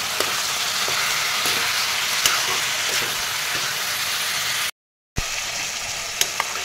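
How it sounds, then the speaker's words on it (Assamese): Chicken pieces sizzle in a hot pan while being stirred with coriander and cumin powder for a chicken curry, a steady close frying hiss broken only by one brief dropout. "এইখিনিও এনেদৰে তৰফৰ কৰি লগাই দিম মাংসখিনি"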